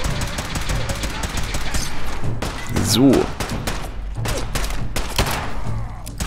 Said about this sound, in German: Mit was der hier in der Gegend rumschießt.